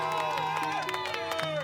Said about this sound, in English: Friends and family of the victim cheering